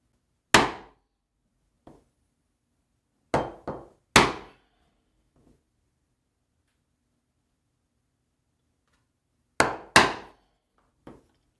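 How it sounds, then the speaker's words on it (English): A chisel laid in a marked line on wood is whacked with a mallet: several sharp, loud single strikes, some in quick pairs, separated by silence. "since we use the chisel, is just to lay it in the line, give it a quick little whack"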